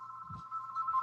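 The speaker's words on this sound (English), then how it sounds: "But just let me switch that phone off 1 second." A telephone rings indoors with a sustained electronic tone, quiet and fairly close, with a brief low thump near the start and no talk.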